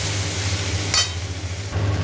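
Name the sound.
potatoes and ridge gourd frying with turmeric in a pan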